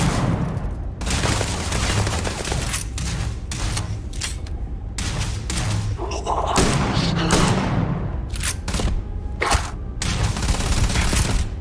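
Gunfire in the game Starfield, with repeated close, loud shots and bursts coming in irregular clusters over steady background rumble and thuds.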